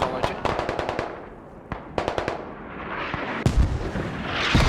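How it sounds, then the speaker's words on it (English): Mortar rounds land in a competitive match of the video game Squad, heard as rapid volleys of sharp blasts with a heavy rumbling impact near the end, while voices talk faintly underneath. "Good mortars on the hab. They're digging the hab back up."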